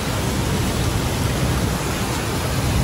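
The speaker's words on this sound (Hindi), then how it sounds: "इतनी अच्छी अच्छी बारिशें तेज" Heavy rain pours down in Karachi, a dense, steady roar of loud broadband noise that holds constant throughout with no pauses.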